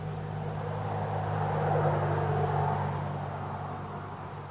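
Bees swarm busily around a large beehive, a dense, continuous buzzing hum that swells slightly in the middle and stays steady throughout, with no voices.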